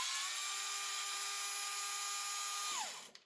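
Small electric screwdriver driving tiny countersunk screws into an airsoft rifle part, a steady high whine held for nearly three seconds that winds down sharply at the end.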